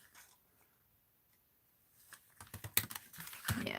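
Craft tape is cut off, first near silence, then a burst of close, crisp snips and crinkly tape handling in quick irregular clicks toward the end.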